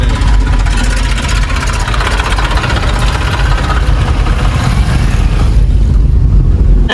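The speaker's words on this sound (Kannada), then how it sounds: "ಇಲ್ಲಿ ಟ್ರ್ಯಾಕ್ಟರ್ ರೋಡ್ ನಡಕ್ ಹಚ್ಚಾರ" A tractor engine runs steadily on a blocked road, a continuous loud rumbling drone that holds without a break and without voices.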